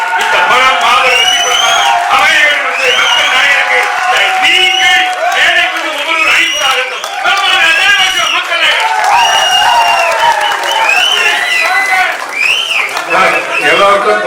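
A large crowd of fans at a speech event claps, cheers and whistles continuously, a loud, dense roar of shouts and applause holding steady throughout.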